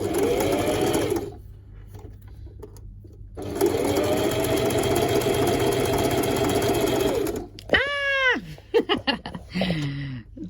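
A sewing machine stitches silky skirt fabric in two long, steady whirring runs, loud and close. Short bursts and stops follow, with a voice briefly speaking near the end.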